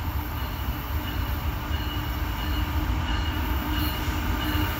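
A mixed freight train hauled by a Tier 4 EMD ST70AH locomotive rolls past at Duffields. The cars rumble steadily and loudly nearby, with faint wheel squeal, and no talking is heard.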